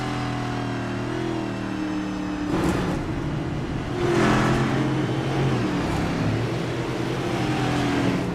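The No. 22 car in a dirt-track racing video game at Bristol howls at very high RPM, a loud steady engine drone with rising and falling pitch sweeps and no talk over it.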